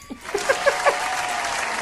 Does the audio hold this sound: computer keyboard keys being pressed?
no